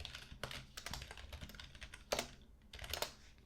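Clicky keys on a computer keyboard as a command is typed on an Arch Linux machine, irregular taps with a few louder strokes, close and quiet.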